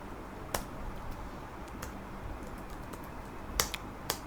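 An HP computer keyboard is tapped in a few scattered, sharp clicks with quiet gaps between them, close and faint, with no talking.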